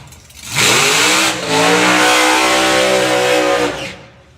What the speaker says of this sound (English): With that lovely hunting sound of a blown small block.